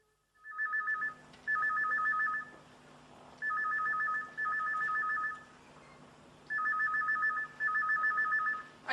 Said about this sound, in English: Isn't somebody going to answer the phone?